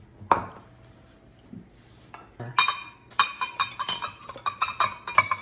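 Two plates handled in a home kitchen, a sharp ceramic clink followed by a quick run of clattering knocks and chinks of dishes close by.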